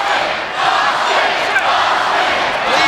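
Sold-out arena crowd at a WWF Raw wrestling event at Arkansas State cheers loudly and continuously, a dense roaring wash of voices with no pauses.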